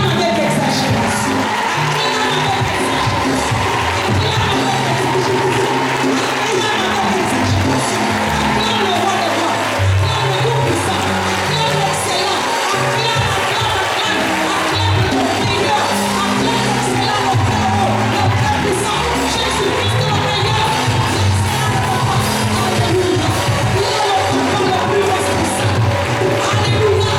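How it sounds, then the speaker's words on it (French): A women's seminar congregation loudly acclaims and cheers at a worship gathering, a dense, continuous roar of crowd voices and whoops sustained throughout. "Acclame avec exagération."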